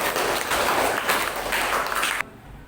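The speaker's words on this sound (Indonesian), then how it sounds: "kita berikan aplaus kepada kelompok" Applause for a student group in a classroom, a dense burst of clapping that holds steady for a couple of seconds and then cuts off abruptly.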